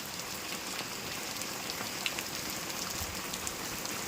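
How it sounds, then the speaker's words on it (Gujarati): Steady, dense rain pouring down without a break, a continuous hiss with scattered drops striking a surface nearby. "બહુ જોરદાર વરસાદ પડેલો છે"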